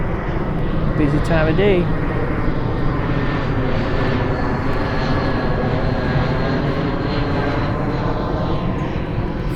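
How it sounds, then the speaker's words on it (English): Airplanes roar steadily overhead near Papago Park in Tempe during a desert rainstorm, a loud continuous engine rumble filling the whole stretch while a person talks briefly near the start. "We got airplanes coming in every 3 minutes."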